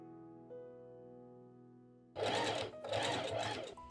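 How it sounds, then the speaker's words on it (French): A sewing machine hemming a fabric rectangle for a baby doll tiered dress: a quiet hum, then two loud, close bursts of rapid stitching separated by a very short pause. "Je vais commencer à faire l'ourlet du dernier rectangle."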